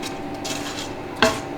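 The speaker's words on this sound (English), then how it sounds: "scrape down the sides just to make sure everything's off the sides of the bowl" A spoon scraping down the sides of a mixing bowl, with soft rubbing strokes and one sharper scrape near the end, close and fairly quiet over a low steady hum.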